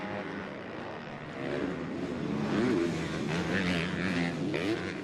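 A pack of 250cc motocross bikes racing at Highpoint Raceway, engines droning and revving together at a steady moderate distance, with a slight rise and fall in pitch as riders work the throttle.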